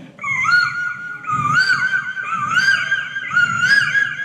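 A human voice imitates a cuckoo calling, performed as mimicry at a residential school: a run of high, warbling whistled calls that rise and fall, repeating in about three phrases, close and clear, with no spoken words.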